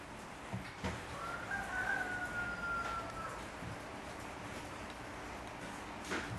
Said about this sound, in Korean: 닭이 뭐라 그런 거 같아요?